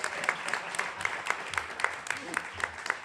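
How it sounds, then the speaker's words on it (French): Audience applause for Serge Simard at a Queer Académie selection event, a steady patter of clapping with faint voices mixed in, moderately loud over about three seconds. "on peut applaudir Serge Simard"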